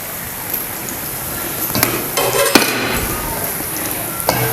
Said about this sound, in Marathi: हे बघा हे सुद्धा आपल्याला चांगलं असं तळून घेऊया.